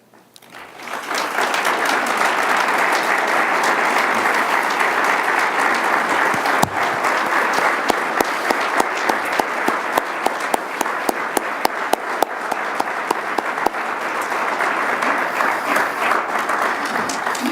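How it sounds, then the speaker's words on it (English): A large audience applauds public safety personnel at a 2019 State of the City address, a dense, loud, sustained round of clapping that swells quickly and holds steady, with a few sharper individual claps standing out. "please stand so we can give you a round of applause"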